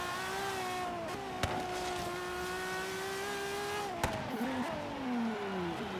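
Racing car engine in Forza Horizon 3, a Ferrari FXX K or Porsche 911 GT2, holding a high sustained drone that slides in pitch as it shifts gears, with two sharp clicks and a falling rev near the end.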